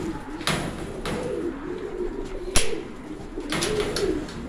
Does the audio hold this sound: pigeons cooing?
yes